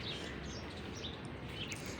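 Morning birds chirping outdoors, small high calls scattered faintly over a steady broadband background hiss, with no voices.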